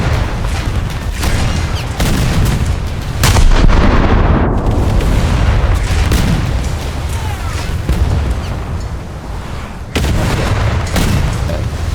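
Shell cannons firing in a video game, with heavy booming shots repeating through the clip, loud and close over constant battle noise.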